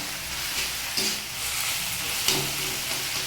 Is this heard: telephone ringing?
no